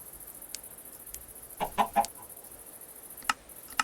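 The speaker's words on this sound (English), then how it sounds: "Chicken." A chicken in Minecraft gives a few short, close clucks in a quick cluster, followed by a couple of isolated single clucks over a quiet background.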